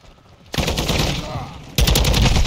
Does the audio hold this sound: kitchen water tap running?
no